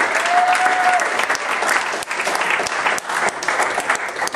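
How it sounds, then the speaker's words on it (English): Full, sustained applause from a crowd in a small music venue, a dense wash of clapping with a few sharper claps standing out, loud and continuous. "Peter Benish deserves a round of applause."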